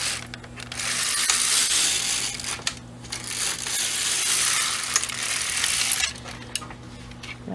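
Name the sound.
knitting machine carriage knitting two rows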